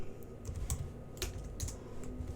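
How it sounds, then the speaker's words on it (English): Quick bursts of keystrokes on a computer keyboard as a command is entered into a Cisco router's command line, close and fairly quiet, with no talking. "So now I'm going to type exit"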